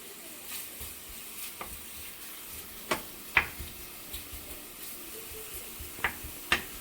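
Bacon seasoned with black pepper renders slowly in a pan, a soft, quiet sizzle broken by sparse, sharp pops and crackles scattered throughout.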